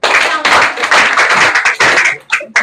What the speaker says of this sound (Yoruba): ẹ wá fún wọn ní àtẹ́wọ́